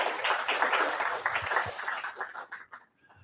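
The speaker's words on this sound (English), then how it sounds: "Let's give them a round of applause." Applause fills a church sanctuary during a Sunday service, a dense wash of clapping that rolls on for about two and a half seconds, then thins into scattered claps and fades out.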